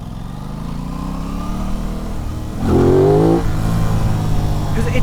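An Aprilia RS 660 motorcycle engine revs up sharply mid-clip, a loud rising roar over a steady idle, then settles back to a strong running drone.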